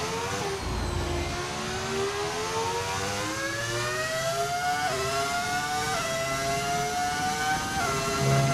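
Modded car engine in the F1 25 racing game, revving high and loud in a continuous whine, pitch rising steadily then dipping briefly at each gear shift.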